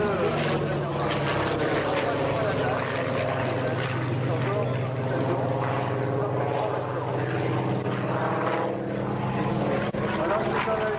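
A Douglas Skyraider, a large and robust single-engine propeller ground-attack aircraft once used in Algeria, drones steadily with a loud, sustained engine roar at an air show at Cambrai air base 103, without pause throughout.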